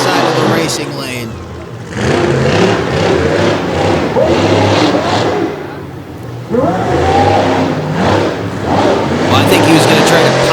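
A monster truck engine roars and revs in surges during a freestyle run at an arena event, loud and sustained, with an announcer talking over the noise.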